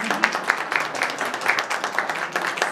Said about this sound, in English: So maybe a round of applause for her.